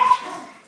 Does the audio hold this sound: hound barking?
yes